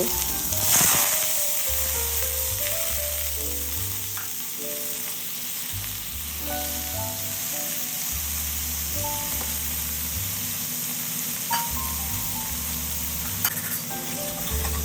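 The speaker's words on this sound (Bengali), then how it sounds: "কড়া গরম করে নিয়েছি সেখানে আমি পনিরগুলোকে আগে ভেজে তুলে নেব" Loud continuous sizzling of paneer frying in hot oil in a kadai, crackling and hissing steadily close by, with occasional clinks and a low humming drone underneath.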